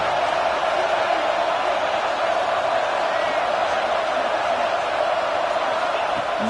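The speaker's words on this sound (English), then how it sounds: "And here comes the noise. This crowd is trying to inspire this defense to make a big red zone stop." A stadium crowd at a football game roars in a loud, continuous wash of noise that swells as the defense makes a red zone stand.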